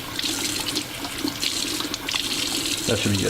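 Freshly cleaned largemouth bass rinsed under a running kitchen tap: steady splashing faucet water hisses throughout, close and continuous, with brief speech near the end.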